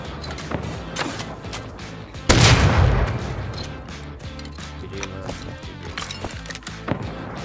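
Gunfire from a double-barrel shotgun in the survival game Rust: one loud, booming blast hits near the middle, trailing a long rumbling decay, while faint clicks and scattered background game noise continue before and after.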